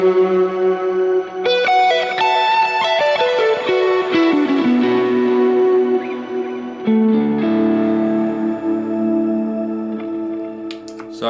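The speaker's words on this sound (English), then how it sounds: "the closest octave in the Helix to being polyphonic, I think, is the octave reverb" Guitar notes through a Line 6 Helix octave reverb swell into a lush, shimmering pad that sustains and decays, one chord after another, with no talking.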